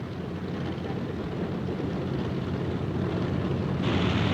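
Propellers of WWII fighter planes run on a carrier deck before takeoff, a loud, continuous droning roar with heavy wind buffeting that swells slightly toward the end.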